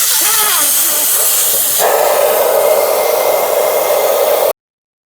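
Air hisses steadily out of a motorcycle rear tire on a Yamaha R7 once the Schrader valve core is pulled, a loud, close, continuous rush that jumps louder partway through and then stops abruptly.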